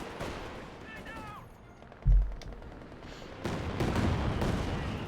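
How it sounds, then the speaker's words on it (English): Katyusha rocket fire in a Company of Heroes 2 battle: a sharp, heavy boom is followed by a rattling barrage of distant blasts, heard under a commentator's voice. "There we go, Katyusha fire, they're ripping through here."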